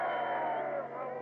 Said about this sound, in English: Crowd in the background seem rather happy about the whole thing